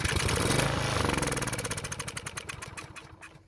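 Small engine on a Craftsman walk-behind trimmer sputtering through a starting attempt, a loud rough rattle that slows into distinct chugging pulses and dies away over a few seconds, nearby with no talk.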